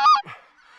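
A single close, loud honk from a goose in an Alberta hunting field, a sharp nasal call trailing off into fainter calls in the distance.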